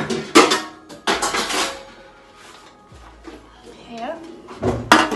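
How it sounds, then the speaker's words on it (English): A metal oven tray is pulled out in a home kitchen, giving sharp clanks and clatters at the start and end, with a person speaking briefly between them. "So I'm just going to get an oven tray out."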